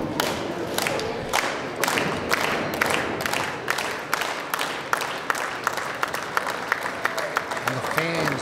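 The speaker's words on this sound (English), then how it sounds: "And the fans cheering here today, going for these both of these men." Wrestling fans at an indoor live event cheer and clap in a steady roar, with regular sharp thuds and claps cutting through, while a commentator talks over the noise.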